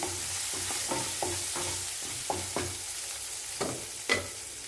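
Onions sautéing with mustard seeds and cumin in a pan: a steady sizzle of frying under repeated stirring scrapes, close and moderately loud, with no voices.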